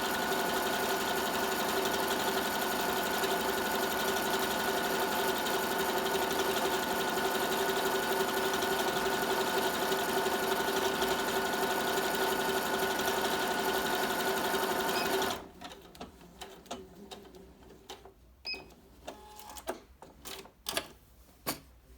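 A Tugi Premio 73 sewing machine runs steadily for about fifteen seconds while stitching a decorative fill pattern, a loud continuous mechanical whir, then stops, leaving scattered soft clicks and handling noises.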